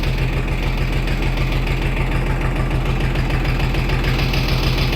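Truck engine idling at about 750 rpm, a loud, steady, close diesel rumble with an even rhythmic knock throughout and no voices.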